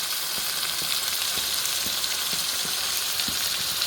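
Pieces of chicken fry with onions in a pan for a home-style green chicken gravy, making a dense, even sizzle with light rhythmic ticks of stirring underneath and no voices.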